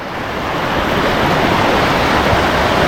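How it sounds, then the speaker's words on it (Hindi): A rising river, swollen by mountain rain near Sahastradhara and Maldevta in Dehradun, rushes with a loud, dense, unbroken roar that fills the whole stretch. "हालांकि इस नदी पे पानी बढ़ रहा है, क्योंकि ऊपर शायद पहाड़ों में बारिश हो रही है ऊपर की तरफ"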